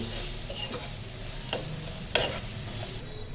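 Garlic paste, turmeric, cumin powder and salt are stirred together in a hot pan. A low, steady sizzle runs throughout, broken by a couple of sharp scraping ticks from the spoon.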